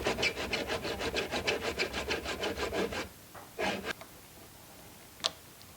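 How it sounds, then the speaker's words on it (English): A tenon saw cuts along a resin piece with about fourteen rapid, even rasping strokes for three seconds, then stops, followed by a couple of brief scrapes and a single sharp tap, close and moderately loud. "I'll just use this tenon saw, and I start up this end, and I just gradually"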